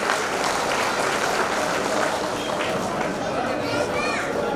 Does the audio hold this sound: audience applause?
yes